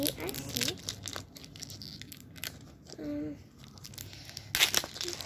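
Wrapping paper crumpling and tearing while prizes are unwrapped: crinkling and ripping in irregular bursts, close by, with a person talking over it.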